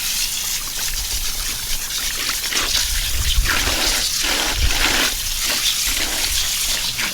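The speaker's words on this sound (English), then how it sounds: "Here to wash out another tie-dye for you." Water runs and splashes steadily while a lemon yellow, dragon fruit and mist grey spiral tie-dye tee is rinsed out, with irregular louder gushes and trickles as the fabric is squeezed and moved under the flow.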